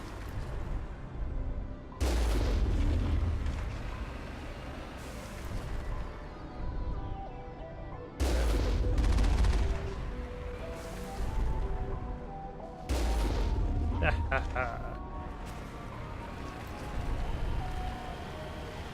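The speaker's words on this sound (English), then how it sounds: "The cannon has infinite range for some reason." Vehicle cannon fire in the Mass Effect 1 video game, three heavy booming blasts roughly five seconds apart, each followed by a rumbling decay under a continuous game soundtrack.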